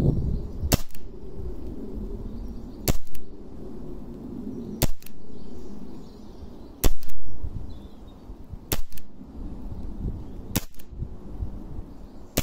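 A Walther CP88 CO2 air pistol firing seven sharp, evenly spaced shots about two seconds apart, each a loud crisp crack close by, with quiet handling noise between them.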